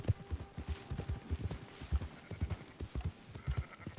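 Horse hooves clip-clop steadily through a sheep herd in Red Dead Redemption 2, a rhythmic near trotting with faint animal calls and game ambience.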